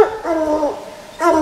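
Raccoon-hunting hounds bay and bark across a stream, with two drawn-out howling barks separated by a short pause, moderately close and unaccompanied by talk.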